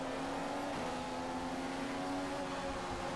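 A Formula 1 car's engine drones at full throttle in the F1 2015 racing video game on the China Grand Prix circuit, a steady high-pitched whine held without a break throughout.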